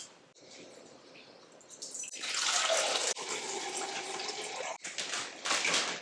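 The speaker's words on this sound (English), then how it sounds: "now got our wood chips drained" Water pours and splashes out of soaked wood chips being drained for smoking, a close rushing flow that starts softly, swells loud and continues with brief breaks.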